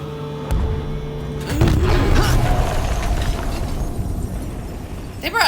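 Military tanks rumbling through the battle for Detroit in Detroit: Become Human, a heavy continuous mechanical roar with booming impacts and a sharp burst near the start, loud and sustained.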